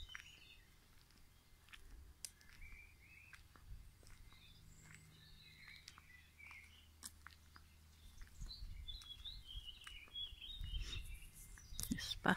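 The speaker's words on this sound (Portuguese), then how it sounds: "Passarinhos cantando." Small birds chirp and twitter outdoors beside a garden in the German town of Biberach. Scattered faint bird calls sound over a low ambient rumble and footsteps.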